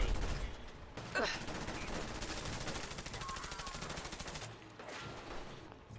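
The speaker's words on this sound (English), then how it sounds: "I accidentally shot the lookout." Rapid automatic gunfire from the video game Fallout 4 rattles in sustained bursts, loud and continuous for several seconds before stopping, followed by a few scattered shots.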